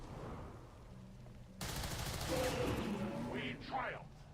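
Gunfire in the video game XCOM starts abruptly as a loud, dense burst of shots and rattling fire that continues over several seconds, with game voice sounds mixed in.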